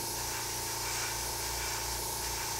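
Airbrush spraying black paint onto masking tape, a steady close hiss running unbroken throughout.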